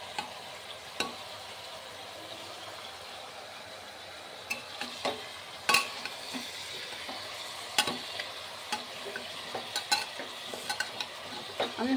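Whole garlic cloves stirred into mutton frying in a pot, with a soft sizzle under repeated sharp spoon-on-metal clinks and scrapes, close and intermittent, no voices.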